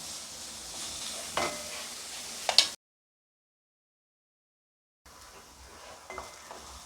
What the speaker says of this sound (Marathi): दोन मिनटासाठी मी असंच परतून ठेवते आणि झाकून ठेवते